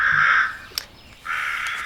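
Crows cawing in two drawn-out bursts separated by a brief gap, fairly near and clear, with no talk over them.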